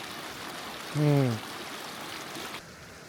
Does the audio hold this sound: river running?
yes